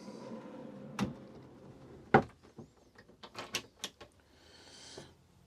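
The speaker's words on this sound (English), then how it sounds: "Cupboards and drawers." Cupboards and drawers in the kitchen of a large Rapido A-class motorhome opening and closing: a string of sharp knocks, clicks and soft slides at close range, irregularly spaced, with a brief rushing slide near the end.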